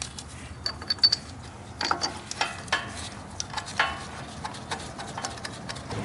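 Wrench ratcheting a new bolt on the front leveling kit of a 2005-or-later Ford F-250 pickup, a series of close, sharp metallic clicks in short uneven bursts, with no talking.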